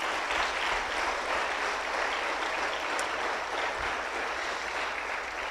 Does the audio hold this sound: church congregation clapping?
yes